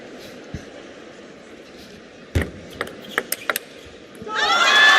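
Table tennis spectators in an arena rising into loud cheering and shouts for Fan Zhendong in a match against Tomokazu Harimoto, after scattered claps and a few sharp ball or paddle knocks over a low murmuring hall.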